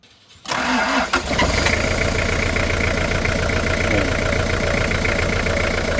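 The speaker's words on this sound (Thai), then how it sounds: "นี่คือการทำงานของเครื่องยนต์" A Toyota Mighty-X diesel pickup truck engine cranks and catches, then settles into a steady, rough idle with a clattering knock, close and loud.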